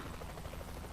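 Helicopter in the video game Saints Row The Third, a steady low rotor thrum with a buzzing drone that holds close and loud throughout, no speech over it.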